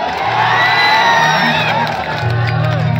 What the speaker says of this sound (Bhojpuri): ये दरबार नहीं हारेगा, ताली बजा दीजिए आप सब।